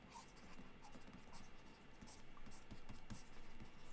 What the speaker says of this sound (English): I'm going to write it here.